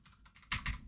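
Quick, irregular clicking of keys on a computer keyboard, close by, with a few louder clacks toward the end and no voices.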